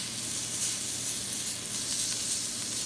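A continuous, dense sizzle from chicken tenders browning in a hot skillet, steady and close with faint hissing and no voices.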